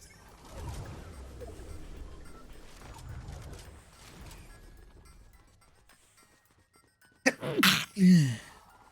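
A loud, close sneeze bursts out near the end, following several seconds of quieter background game audio and low mechanical noise during a Fortnite session.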